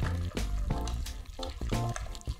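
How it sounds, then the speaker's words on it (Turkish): Raw egg beaten into salty choux pastry dough for savory profiteroles, giving close, wet squelching and sticky slapping in quick, irregular bursts with brief pauses, and no voices. "Şimdi hemen hızlıca yumurtayı içerisine yediriyorum."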